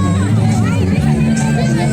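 A packed crowd at Shaheed Khudiram Bose Stadium in Muzaffarpur, gathered for a district foundation day musical chairs event, fills the air with a loud, steady babble of many voices.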